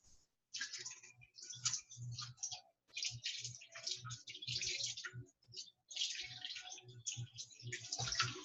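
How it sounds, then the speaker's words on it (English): Hands being washed under a running kitchen tap after touching raw meat: close, uneven bursts of splashing water broken by brief pauses, with soft low knocks and no speech. "we're gonna give our hands a wash because we just touched raw meat"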